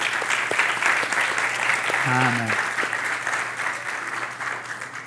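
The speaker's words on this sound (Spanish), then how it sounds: "Les damos un aplauso a los papás" A church audience applauds the fathers at a fifth-anniversary service, a steady wash of clapping across the room while a voice says a short word midway.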